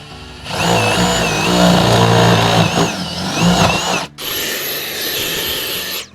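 A power drill bores a larger hole for a panel mount, giving a loud close motor whine that rises and wavers under load, then cuts out briefly before a steadier, higher spin runs until it stops.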